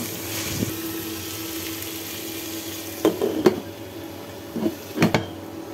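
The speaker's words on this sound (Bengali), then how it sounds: "এই যে বাজিটা আমি নেড়ে ছেড়ে দিচ্ছি" Vegetable fry stirred in a pan, a steady sizzle underneath with a few scraping, clattering strokes of the spatula toward the end.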